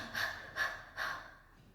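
Three short, breathy exhalations follow ten jumps, evenly spaced and close, soft and airy with nothing else in between.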